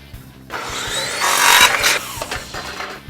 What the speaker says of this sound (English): splits bamboo on the ripsaw to use as trim on the ceiling around the skylight